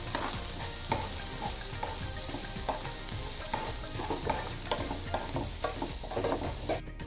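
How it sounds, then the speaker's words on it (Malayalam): Curry leaves, ginger and green chillies sizzle steadily in hot oil in a pan, with a continuous bright frying hiss and soft stirring scrapes throughout, cutting off near the end. "പച്ചമുളക് ചേർത്ത് കൊടുക്കുക. എന്നിട്ട് നന്നായി ഒന്ന് വഴറ്റിയെടുക്കാം."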